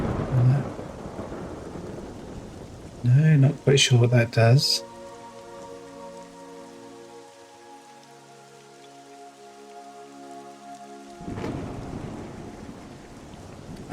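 Rain and rolling thunder from the Monsters & Memories online role-playing game, a steady wash of rainfall with low rumbles that fades in the middle and swells again near the end, with brief talk early on and a sustained musical tone.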